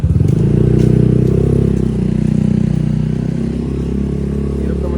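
A motorcycle without push-button start in a game runs with a loud, rough rumbling engine, a steady close throb with some rattling, sustained throughout.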